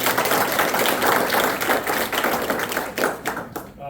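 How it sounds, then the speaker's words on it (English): A crowd gives a round of applause for a list of people being thanked. The clapping is loud, close and densely layered, then thins and fades out near the end. "Huge thanks and round of applause."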